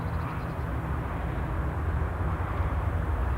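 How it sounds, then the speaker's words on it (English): An ATR 72 turboprop taxiing at Newcastle International Airport, a steady low engine rumble and drone held at constant level for the whole stretch, with no voices. "the ATR 72 is taxiing out as per runway 25"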